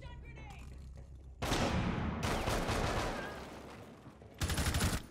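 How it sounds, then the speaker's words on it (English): Loud bursts of rapid machine gun fire in the tactical shooter Rainbow Six Siege, one long sustained volley and a shorter burst near the end, with a quieter stretch of game ambience between. "Machine gun."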